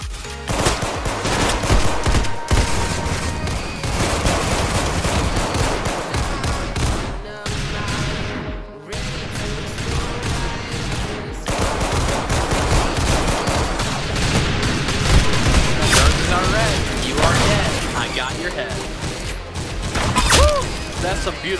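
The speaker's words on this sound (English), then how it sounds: "That's some beautiful shooting right there." Rapid, sustained gunfire from Roblox Arsenal, with dense bursts of automatic shots and explosive cracks running almost continuously at close range, a short lull partway through, and occasional speech mixed underneath.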